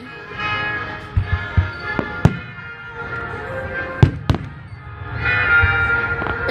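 Fourth of July fireworks exploding in a series of sharp, loud booms and pops, some close together and others spaced apart, over a steady crackling rumble.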